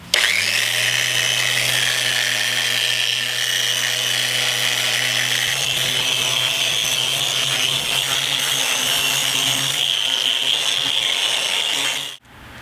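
A power sander works over scratches on a metal car wheel, whirring loudly and continuously with a steady motor hum that shifts pitch partway through, then cuts off near the end.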